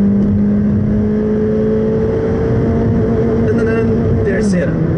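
Honda Civic with paddle-shift transmission revving hard in second gear up to the rev limiter, the engine note climbing steadily then cutting and dropping at the limiter, loud and close.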